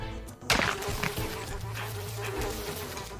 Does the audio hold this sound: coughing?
no